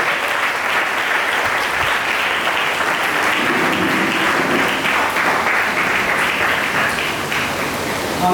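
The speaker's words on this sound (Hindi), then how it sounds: "हम ताली बजाएंगे।" Sustained applause from a church congregation, steady, dense clapping filling the space at full volume for the whole stretch, with faint voices mixed in beneath.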